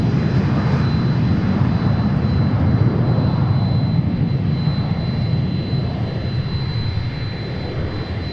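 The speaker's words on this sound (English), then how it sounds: "Here's our UPS flight." A UPS cargo jet at Boeing Field produces a loud, continuous jet engine roar with a faint high whine, holding steady and close throughout with no voices.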